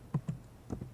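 A few soft keystrokes on a keyboard, two pairs of quiet close taps within under a second.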